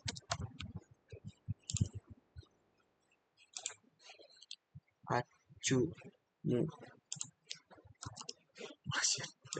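Someone types on a computer keyboard, with a quick cluster of close, dry clicks at first and then scattered taps among stretches of someone talking.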